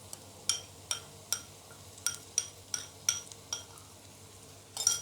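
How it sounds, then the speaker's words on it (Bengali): Red chili paste with turmeric, salt and coriander powder fries in oil on low heat, with a soft sizzle and about a dozen regular clinks and scrapes of a utensil stirring against the pan. "এখন চুলার আঁচটা কমিয়ে এটা ভালো করে কিন্তু ভাজতে হবে তেলের উপরে।"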